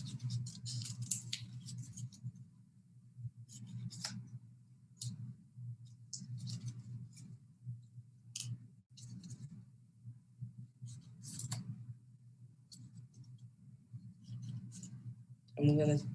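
Scissors snip paper while a mask is cut out, giving short scattered crisp clicks and snips at close range over a steady low hum, with a louder knock near the end.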